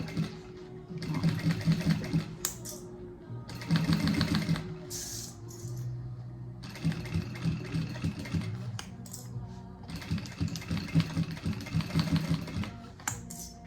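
A sewing machine stitches fabric in several bursts of rapid, rhythmic clatter separated by short pauses, close and fairly quiet.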